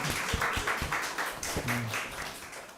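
A church congregation claps together after a pastor's service talk, a steady patter of hands with periodic louder beats, fairly near, with faint speech underneath.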